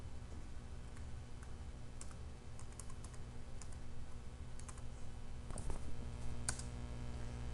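Typing on a computer keyboard to enter an Apollo airline-code command: steady soft clicks of keystrokes, fairly quiet and close, with a few sharper taps, over a constant low hum and no talk.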